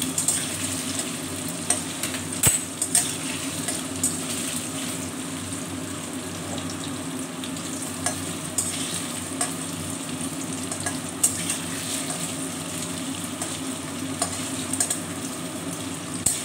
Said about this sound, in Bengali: কড়াইটা এত গরম হয়ে গেছে যে যাওয়ার সাথে সাথে পনিরগুলো লাল হয়ে গেছে।